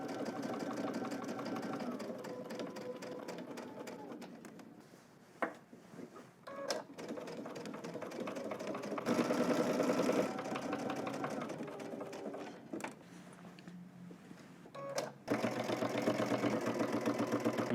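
Sewing machine stitching a cropped jacket from a Simplicity pattern, with runs of fast rhythmic needle chatter broken by short pauses and clicks as the fabric is adjusted, close and moderately loud.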